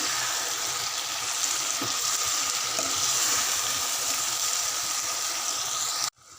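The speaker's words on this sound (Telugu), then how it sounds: "ఇప్పుడు టమాటా ముక్కలు వేసుకోవాలి టమాటా ముక్కలు కొంచెం ముక్క వరకు ఉండనివ్వాలి" Tomato pieces frying in a pan with okra curry, a loud, steady, close hiss and sizzle that continues unbroken before cutting off abruptly at the end.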